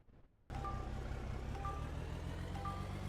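Reversing truck in the mining game Out of Ore beeps three times at even one-second intervals over a loud, steady low engine rumble that starts abruptly after a brief quiet moment.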